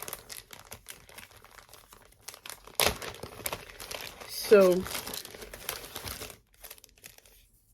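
Plastic and paper crinkle and rustle as cross-stitch kit items are pulled from a bag and zipper pouch, with one louder crunch midway and a brief spoken word at the start.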